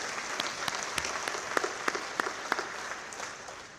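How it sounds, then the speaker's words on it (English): An audience at an alumni awards ceremony applauds warmly, with many hands clapping in a dense, steady patter and a few sharper claps standing out. "Let's again give them all one big round of applause and say thank you."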